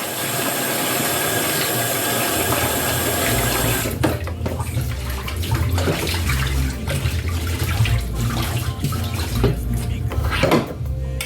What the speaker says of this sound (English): give it another quick wash.